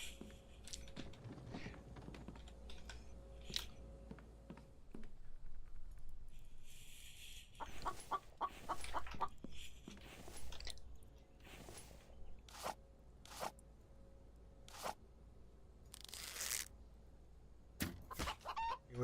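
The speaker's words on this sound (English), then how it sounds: "Be with you shortly, chicken." A chicken in the survival video game The Infected clucks in short bursts, spaced at irregular intervals over a low game ambience, with keyboard typing and clicks mixed in.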